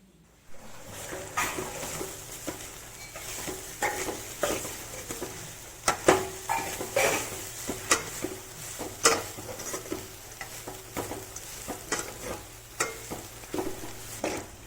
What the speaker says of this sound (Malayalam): ഇത് നമുക്ക് നല്ല വെളിച്ചെണ്ണയിൽ ഒന്ന് വറുത്തെടുക്കാം കേട്ടോ